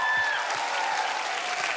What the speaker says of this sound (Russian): И эти аплодисменты. Браво!